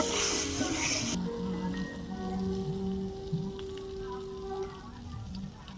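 Butter sizzling in a hot pan before frying potato cheese kababs, a steady crackling hiss under a faint background hum, beginning abruptly and continuing evenly.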